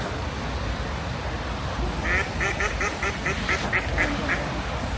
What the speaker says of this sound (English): That's the sound from a duck, right?